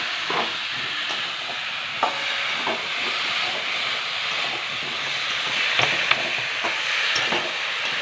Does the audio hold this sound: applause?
no